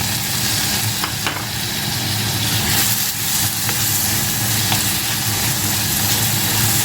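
Chopped tomato sizzles loudly as it fries with fenugreek in hot oil over high heat on a stove, a steady dense crackle running throughout, with occasional stirring.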